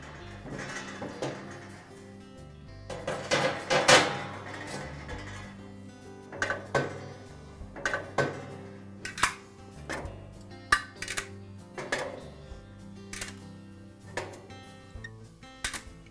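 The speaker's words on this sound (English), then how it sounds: "I'm going to remove the grill grates and the flavorizer bars so we can remount the burners." Metal grill grates and flavorizer bars are lifted out of a Weber gas grill, making scattered close clanks, scrapes and rattles at an uneven pace, with no voices.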